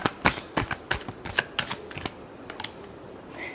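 Tarot cards shuffled by hand in a final shuffle, a close run of quick papery flicks and taps that thins out toward the end, with no voice over it.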